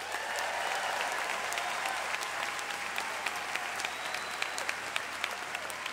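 Applause from an audience at a school district convocation, steady crowd clapping for administrative staff, sustained and moderately distant throughout.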